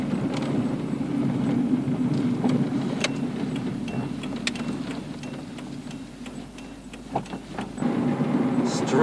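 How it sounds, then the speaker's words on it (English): Town traffic passing close by on a street, a steady broad rumble of car engines and tyres with clicking, ticking sounds over it, people talking throughout. "There's literally cars everywhere."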